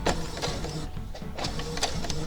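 A home sewing machine stitches a 3/8 inch seam in quick bursts of rapid mechanical clatter, pausing briefly between runs, heard close and fairly quiet.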